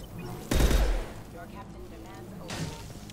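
A sniper rifle shot in the video game Mass Effect 2 gives one loud, close blast with a short decaying tail, then a fainter second report about two seconds later, while a voice talks over the game audio.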